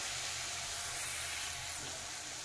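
Ground chilli, turmeric, cumin and coriander powders fry in a pan as an egg and new-potato curry is started, giving a steady, close, soft sizzling hiss with no talk.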